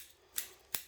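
Sharp bonsai snips cut through roots of a Mallee-style bonsai during repotting, two crisp metallic clicks spaced under a second apart, close and clean against a quiet background.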